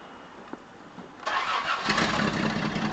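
A Toyota FJ60's engine cranks briefly, then catches and starts, settling into a loud, steady rumbling idle close by.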